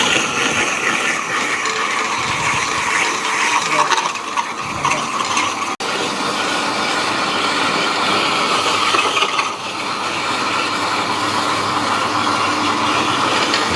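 An electric 4-in-1 grinder grates coconut with a continuous loud whirring, rattling drone and a brief dip partway through, with no voices.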